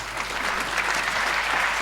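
An audience at a Hindi comedy poetry gathering breaks into dense, sustained applause, a loud, even wash of many hands clapping together for the full stretch.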